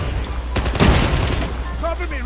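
Gunfire in Call of Duty Mobile played on a BlueStacks emulator: a dense burst of rapid shots and booms lasting about a second, loud and close, with someone talking around it.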